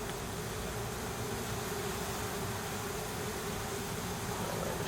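Honey bees swarm during a removal after being smoked, a dense, continuous buzzing that fills the air at steady loudness with no voices.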